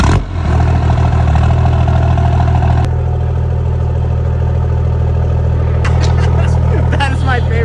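A 4th gen Cummins Ram truck diesel engine, a modified sleeper with a 6-speed, cranks and catches, then settles into a loud, steady, deep idle close by, with brief talk over it near the end.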